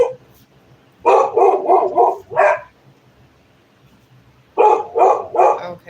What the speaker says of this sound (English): there goes my dog barking